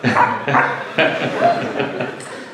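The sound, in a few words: man imitating a dog barking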